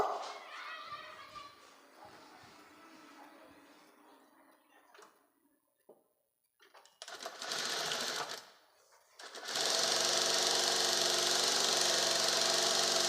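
After a quiet stretch with low background murmur, a sewing machine stitches the joint on a patiala salwar panel in one short burst and then a longer, loud, steady run.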